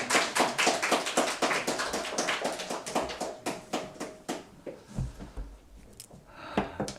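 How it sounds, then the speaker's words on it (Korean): A Baptist church congregation in Gangnam, Seoul claps to welcome a pastor: quick, sharp, fairly even claps that thin out and grow sparser toward the end, with no talking over them. "뜨겁게 박수로 환영해 주시면 고맙겠습니다"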